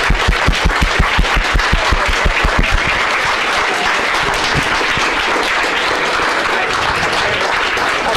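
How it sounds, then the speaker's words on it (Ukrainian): Applause for a guest, an American astronaut of Ukrainian heritage, at a public meeting: loud, dense clapping from a large audience, starting with a brief rhythmic unison beat before settling into steady continuous applause. "Давайте подякуємо нашій дорогій гості оплесками"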